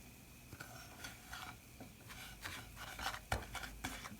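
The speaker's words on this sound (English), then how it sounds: "But you just mix it together." Ingredients for coconut shrimp being mixed together in a bowl, heard as soft, quiet scraping and rubbing strokes in an irregular rhythm, close by and with no talking.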